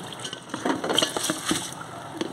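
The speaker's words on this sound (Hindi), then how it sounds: "पानी भी ऐड कर दिया है।" Water is poured into a pot of rice and fried spices for keema pulao, making a close, splashing, gurgling rush with uneven bursts throughout.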